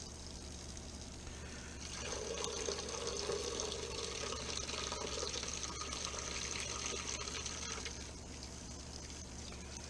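Water pours from gallon jugs into an aquarium canister filter, a steady splashing fill. It starts at about two seconds, runs for roughly six seconds and then stops, with faint room noise before and after.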